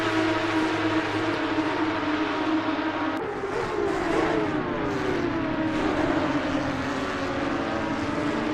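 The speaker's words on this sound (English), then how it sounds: "we get to listen to that glorious sound of the Porsche Cup car engines coming down the Kemmel Straight" Porsche Cup race cars in a sim racing game at Spa Francorchamps, engines droning loud and continuous down the Kemmel Straight, with shifting pitch as several cars pass together.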